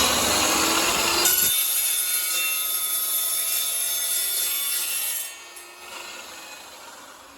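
A piece for a custom light bar is cut with a loud, continuous, harsh whine that stays steady for several seconds, then drops away and fades near the end.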